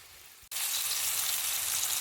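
Pork chops frying in a pan, a steady bright sizzle that starts abruptly after a brief quiet moment and then holds an even, crackling hiss, close and fairly loud with no voices.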